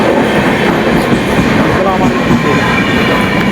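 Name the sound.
train arriving at a station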